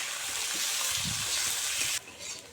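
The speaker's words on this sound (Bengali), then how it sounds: "আলুটা আমি মিনিট দুয়েকের মতো পেঁয়াজ রসুনের সঙ্গে ভালো করে কষিয়ে নেব" Potatoes fry with onion and garlic in a pan, a dense, loud hiss that holds steady, then drops sharply and quietens near the end, with a few soft stirring knocks underneath.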